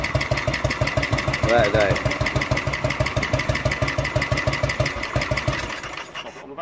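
A 1967 Matchless G80CS 500cc single-cylinder motorcycle idling with a steady, loud, close thumping beat, with voices talking over it.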